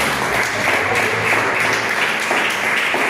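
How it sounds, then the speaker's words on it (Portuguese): A church congregation claps along joyfully at a worship service, a dense continuous wash of applause that stays steady and fairly loud throughout with no speech over it. "as palmas bem alegres para Jesus."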